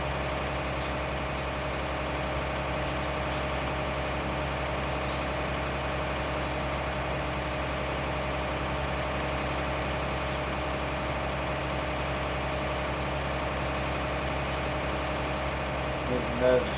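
A Big Bud tractor pulling a corn planter through slightly wet soil runs with a steady, loud low diesel drone that holds constant throughout, with a brief louder bump near the end.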